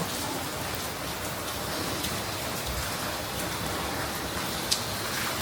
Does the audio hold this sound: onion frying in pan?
no